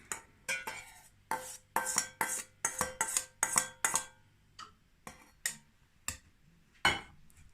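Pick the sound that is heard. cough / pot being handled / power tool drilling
pot being handled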